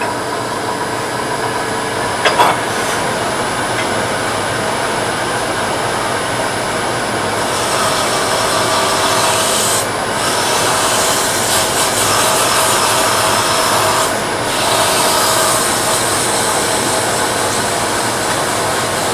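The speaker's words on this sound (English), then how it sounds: "I'm going to do some sanding before I do any more." Sandpaper held against an ebony Christmas ornament spinning on a wood lathe gives a steady, loud whirring rush throughout, with a brief knock early on and slight shifts in pressure later.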